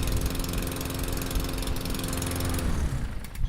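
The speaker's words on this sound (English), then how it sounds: "1 man in 10 thinks it's a privilege to push his own lawnmower." A push lawnmower engine drones steadily and loudly while cutting a lawn, a continuous motor hum that holds throughout before thinning slightly near the end.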